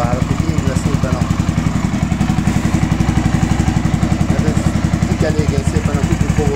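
An XBR 500 motorcycle engine runs at its first start, a steady, loud, close idle with an even pulsing beat and a slight mechanical clatter that holds for several seconds.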